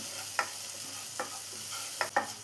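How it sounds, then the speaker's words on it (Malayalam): Spices and chili powder being sautéed in a pan for a potato and spinach curry, with a few soft scrapes of stirring over a faint, steady sizzle. "ഇനി ഇതിൻ്റെ സ്മെല്ലൊന്ന് മാറി വരുന്നവരെ ഒന്ന് വഴറ്റിയെടുക്കാം."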